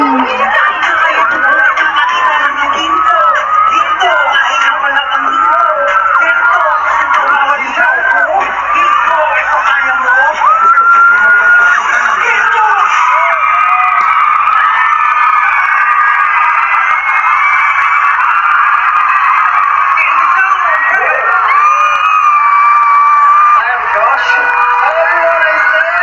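Fans of SB19 at an Ayala Malls event keep up a loud, dense wall of high-pitched screaming, cheering and shouting that never lets up for the whole stretch.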